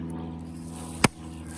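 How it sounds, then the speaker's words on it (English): A single sharp crack of a Grand Force forest axe striking and splitting wood, loud and close, standing alone over a faint steady outdoor hum. "Let's try a little splitting with the Grand Force."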